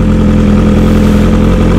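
KTM motorcycle engine idling outdoors, a loud, steady low rumble close by with a constant even throb and no revving, while people talk nearby.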